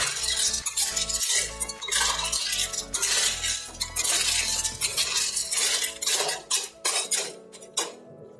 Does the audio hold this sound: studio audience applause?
no